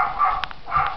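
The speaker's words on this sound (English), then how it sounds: "Sorry about my dog, everybody." A pet dog barks indoors during a close look at a Halloween cigar box, giving two bursts of muffled, mid-pitched yaps about half a second apart, close by and moderately loud.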